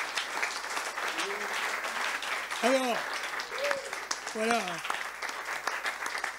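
An audience at a business leaders' conference in Avignon applauds Frédéric Ferrer with a sustained, even clapping, while someone speaks over the applause.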